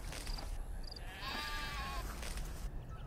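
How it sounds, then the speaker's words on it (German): Sheep bleats in Black & White 2, a couple of thin quavering cries over a constant noisy ambient background, moderately close. "das Schaf ist nicht krank. Es bekommt Junge."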